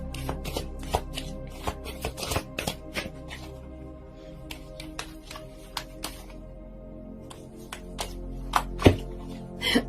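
Tarot cards are shuffled by hand in quick bursts of crisp riffling slaps and flicks, close up, with brief pauses between runs and no speech.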